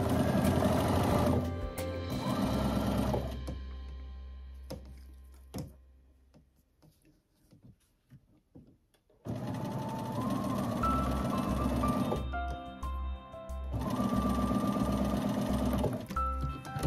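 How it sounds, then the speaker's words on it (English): Sewing machine stitching quilt fabric, a loud close whirring run that slows and stops, then after a quiet pause starts again with steady, rhythmic stitching. "So I'm going to sew."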